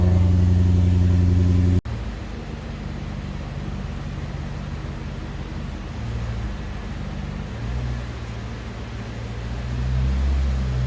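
A Maserati car engine idles and warms up, a steady low rumble close by that runs throughout after a brief louder burst at the start.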